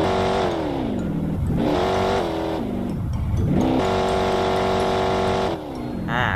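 A Ford Mustang SVT Cobra R engine revs hard several times up close, with rising and falling sweeps and short dips between blips, loud and continuous throughout.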